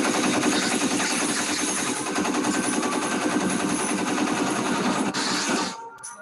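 Rapid sustained machine gun fire, a dense continuous rattle of shots lasting several seconds before cutting off abruptly, loud and close with no voices.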